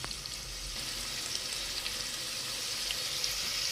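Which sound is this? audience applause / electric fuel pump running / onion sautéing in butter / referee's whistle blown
onion sautéing in butter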